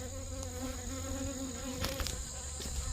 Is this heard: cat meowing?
no